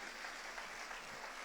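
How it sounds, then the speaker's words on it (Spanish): A church congregation claps together during a sermon, a short dense burst of applause that stays even and fairly distant throughout. "Dale un aplauso al Señor."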